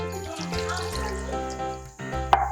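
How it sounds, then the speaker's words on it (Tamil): Water poured from a vessel over cut bitter gourd pieces in a kitchen, a short liquid splash and trickle under a faint background tone, ending with a small clink. "இதில் கொஞ்சம் தண்ணி ஊற்றிக்கலாம்"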